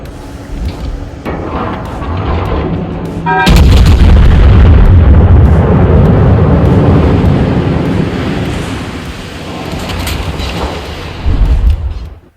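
The battlecruiser Mackensen fires a high-explosive salvo in a naval warship video game. Distant rumbling gunfire gives way to a loud, deep booming blast that rolls on for several seconds, with more thuds later.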